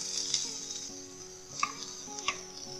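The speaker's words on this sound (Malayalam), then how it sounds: "പിന്നെ സവാള ആഡ് ചെയ്ത് കൊടുക്കാം." Sliced onion drops into a pan of frying urad dal and garlic for tomato chutney, giving a soft, steady sizzle with a few light stirring clicks, quiet and close.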